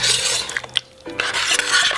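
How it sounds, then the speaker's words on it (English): A spoon stirs eggplant ratatouille inside a pressure cooker pot, a couple of seconds of close scraping and clinking against metal with wet squelches, brief pause midway, then more stirring. "we're going to just stir this up here."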